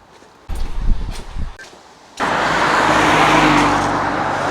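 Traffic on busy Ermine Street in Stratton St Margaret, Swindon, heard from the roadside: a few brief rustling knocks, then from about two seconds a loud, steady wash of passing vehicles with a broad continuous roar.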